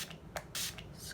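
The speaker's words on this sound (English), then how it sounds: "I'm going to wet my brush with this Skindinavia setting spray" Skindinavia setting spray is squirted onto a makeup brush in a few quick, soft, breathy bursts, close and quiet, with faint handling rustles between them.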